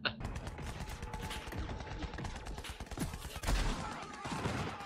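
Rapid gunfire from a gun in the video game Borderlands 3 rattles in dense, continuous volleys with heavier booming hits mixed in, loud and up front throughout.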